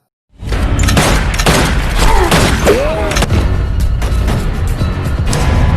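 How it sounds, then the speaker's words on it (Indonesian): Gunshots ring out in a tense gangster film scene, a loud burst of sharp reports and booms over a busy, dense soundtrack with creaks and mechanical clatter. "Molly menembak Tommy dan Tommy pun langsung tewas"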